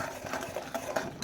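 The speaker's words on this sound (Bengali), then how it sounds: "এইভাবে নেড়ে যেতে হবে।" Sugar caramel being stirred continuously in a pan for coconut naru, a soft scraping and clinking of the spoon against the pan, repeated in an irregular rhythm, close up and fairly quiet with no talk.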